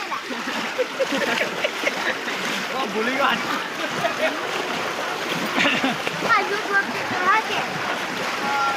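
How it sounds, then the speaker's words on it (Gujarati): Rain falling with water running and splashing outdoors around a housing society, a steady wet wash carrying through the whole stretch while several people talk over it. "વરસાદ પાછો આવ્યો છે"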